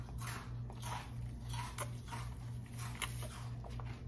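Close, moist bites and chewing into a golden kiwi eaten with its skin on, repeated crunchy bursts over a low background hum.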